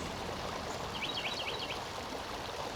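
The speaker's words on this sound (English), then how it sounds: "Here we got a stream back over that way, so you can hear it" A woodland stream runs over rocks some distance away, a steady, faint rushing wash with no other sounds on top.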